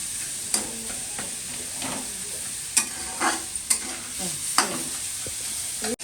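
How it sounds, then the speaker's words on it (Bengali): Fish frying in oil in a wok (kadai) in a home kitchen gives a steady, loud sizzling hiss, broken by several sharp scrapes and clatters of stirring. "এই যে মাছ ভাজা হচ্ছে"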